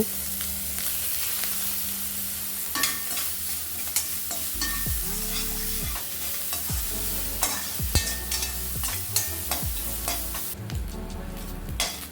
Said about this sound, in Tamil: தேங்காய் சேர்த்து நல்லா ஃப்ரை பண்ணி விட்டுக்கலாங்க